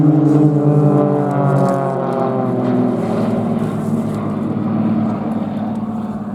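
Aircraft at the Little Gransden Airshow trailing smoke fly overhead with a steady, droning engine roar and shifting harmonic tones that hold loud and continuous throughout, slowly sweeping in pitch as they pass.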